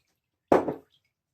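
A wet badger-hair shaving brush is squeezed out by hand, giving one short, close, soft wet squish of water lasting about a third of a second against silence.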